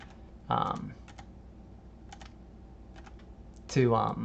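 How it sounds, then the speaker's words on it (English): Computer keyboard arrow keys pressed while working in Orca Slicer software, a few light clicks scattered through the clip between two short bursts of a nearby voice talking. "you can use your arrow keys on your keyboard to"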